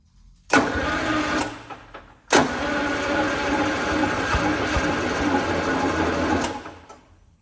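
A junkyard Detroit Diesel 6-71N gets two cranking attempts: a short burst, then a longer steady churning roll of several seconds that winds down without catching.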